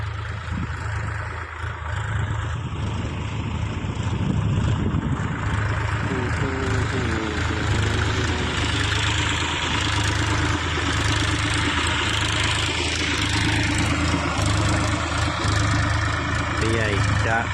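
A tractor engine idles and runs with a steady low rumble in a field being prepared for Bt cotton planting, while people talk over it throughout.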